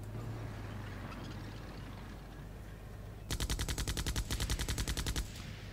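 Rapid automatic Uzi fire from the war strategy video game Soldiers of Anarchy, a sharp sustained burst of about two seconds rattling out after a quiet stretch of low background noise.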